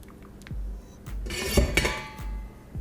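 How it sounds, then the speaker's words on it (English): Spoon scraping and clanking against a pot while cheese is stirred into white bean chicken chili, with repeated close metallic scrapes and knocks and a louder clatter midway. "I'm gonna stir that in until it's melted into our chili"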